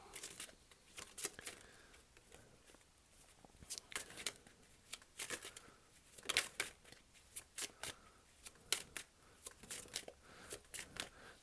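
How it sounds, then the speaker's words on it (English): A deck of tarot cards is shuffled repeatedly with crisp riffling snaps and soft papery rustles, close and quiet, coming in irregular bursts with brief pauses between. "While there may be moments of silence while I'm shuffling the cards"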